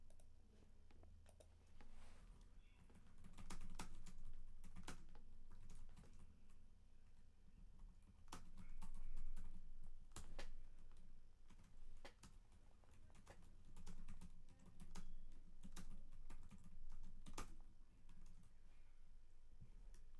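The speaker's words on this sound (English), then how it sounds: "I'm going to go ahead and type some of this shit into the platform or to the chat" Keystrokes typed in a chat during a live guitar stream, an irregular run of light clicks and taps over a steady room hum, with occasional louder knocks from neighbours moving behind thin walls.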